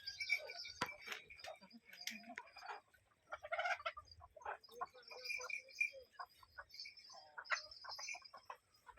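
Free-range country chickens on a village poultry farm give scattered clucks and short calls. The calls come in irregular bursts at moderate distance, with brief quiet gaps between them.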